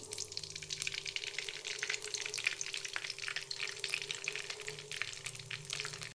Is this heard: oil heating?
yes